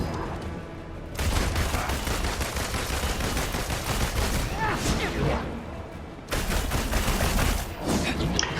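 Rapid gunfire bursts from a third-person action game set against Taskmaster at brutal difficulty, dense and continuous with a brief lull, loud and close under a steady game soundscape.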